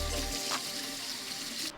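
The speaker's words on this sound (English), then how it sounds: "Run them under some water and spread each part of the leek apart with your fingers" Tap water runs steadily into a kitchen sink while leeks are rinsed, a soft hissing splash at moderate distance that briefly swells and ends abruptly.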